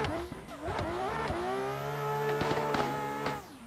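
BMW M4 doing a fifth-gear burnout in the Assetto Corsa racing game, with a high revving engine and a long tire squeal held for several seconds, loud and close, rising and falling slightly.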